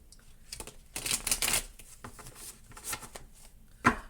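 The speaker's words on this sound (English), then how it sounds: "going to shuffle it one more time here." Tarot cards being shuffled nearby in several quick riffling bursts, with soft pauses between and a sharp tap near the end.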